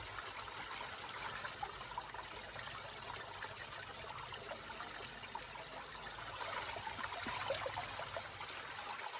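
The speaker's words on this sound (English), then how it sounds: "Hopefully we can get some water in it." Water trickling steadily into a small container outdoors in the wild, a faint, continuous dribbling wash that swells slightly toward the end, with no voices.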